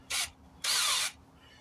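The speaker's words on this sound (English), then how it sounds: "Got the drill." A cordless drill with a wire brush, used while replacing a tire on a 2000 Chevy Tahoe, gives two short, loud, whining bursts with a gap between them. The second burst is longer. The battery is worn out.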